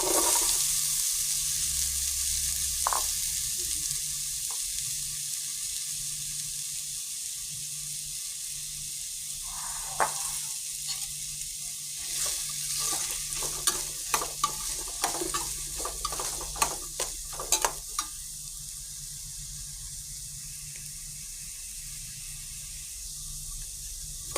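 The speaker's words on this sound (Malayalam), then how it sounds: "അതിലേക്ക് നമുക്ക് അരിഞ്ഞു വെച്ചിരിക്കുന്ന വെള്ളരിക്ക ചേർക്കാം" Chopped cucumber sizzles in a frying pan with onion and curry leaves, a steady quiet hiss with a burst of stirring clicks and scrapes in the middle.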